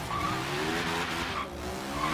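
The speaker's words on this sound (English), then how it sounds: "Okay, so we're definitely getting a whole lot of wheel spin, as you would expect." A Morgan 3 Wheeler in Forza Horizon 3 spinning its single rear tire in a burnout, with continuous loud tire squeal over a steady revving engine drone, close up.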